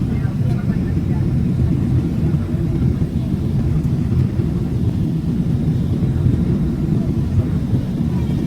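Steady low cabin rumble of an airliner descending toward Atlanta airport, a constant engine and airflow drone with no pauses throughout.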